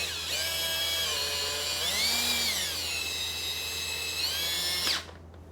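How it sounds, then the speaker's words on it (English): A power drill whines steadily while raising a motorcycle lift, its motor pitch dipping under load and then recovering before it cuts off abruptly near the end, loud and close. "You can also use a drill."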